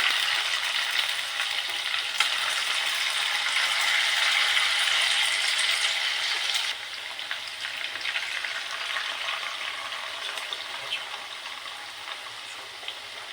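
Noodles deep frying in hot oil over medium flame, a dense, continuous close-up crackling sizzle that stays loud throughout, easing slightly partway through.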